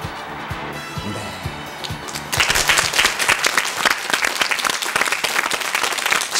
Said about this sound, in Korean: 7만 관중의 기립박수를 받았다